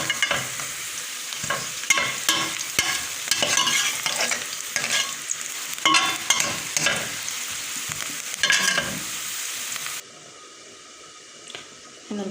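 Onions frying in oil with salt, sugar, coriander, black pepper and cumin being stirred in for Egyptian koshari: loud sizzling with repeated scraping stirs of a spoon in the pan, then cutting to a quieter hiss near the end.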